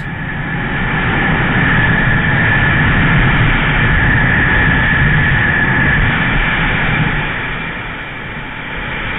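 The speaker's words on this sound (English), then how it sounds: "This here is going to be some of my top gear roll-ons." A Kawasaki Z1000 motorcycle accelerates in top gear from a roll-on, giving a loud, continuous engine roar mixed with heavy wind rush that swells and then eases slightly near the end.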